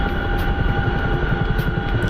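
A Chinook helicopter in a flight game, hauling a heavy load, gives a steady, loud rotor and turbine roar with a fast rhythmic thudding underneath, continuous throughout.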